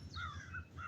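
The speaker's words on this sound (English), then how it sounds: "I hear some of my crow buddies out here." Crows cawing outdoors, three short harsh calls in quick succession, moderately distant and fairly faint, with no talk.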